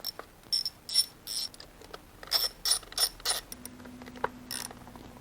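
A ratchet undoes the T30 lower air box bolts on a Harley-Davidson Pan America motorcycle: close, crisp clicking in short rhythmic strokes, with a low steady hum starting partway through.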